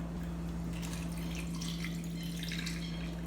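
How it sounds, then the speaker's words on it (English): Soda water poured into a gin and blackberry wine cocktail, a steady quiet stream of liquid running into the glass over a low hum, with no talk. "The next thing I'm going to do is charge it with some soda."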